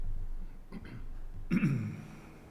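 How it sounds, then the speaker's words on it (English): A quiet rasp, then a louder guttural throat clearing near the end during a planning and zoning meeting, close and brief, with no talking. "it's more clearing my throat"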